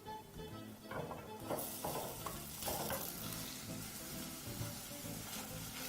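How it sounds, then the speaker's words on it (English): Rice stirred with melted butter in a pan with a wooden spoon, steady sizzling and frying overlaid with repeated scraping strokes of the spoon, fairly close with no voices. "And using a wooden spoon, proceed to mix everything together."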